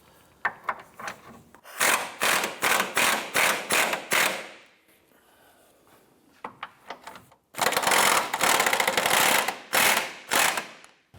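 Gear wrench ratcheting loose the front subframe bolts on a 2004-2008 Acura TL during a rear lower transmission mount replacement: repeated quick clicking strokes in bursts, close and loud, with a short pause in the middle.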